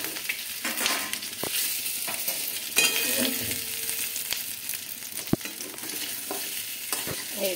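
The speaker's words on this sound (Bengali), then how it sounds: "এবার আগে থেকে চিকেনটা রেডি করে সেটাকে আমরা দিয়ে দেবো তেলের মধ্যে" Chicken 65 pieces frying in hot oil with curry leaves and slit green chillies, a steady close sizzle with stirring scrapes and occasional sharp clicks, no talking.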